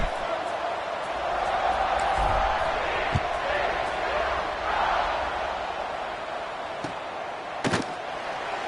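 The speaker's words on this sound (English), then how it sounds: "this crowd is buzzing after that last score" A football stadium crowd buzzes with a steady, distant roar of murmuring voices, rising slightly in waves, with a few sharp thuds near the end.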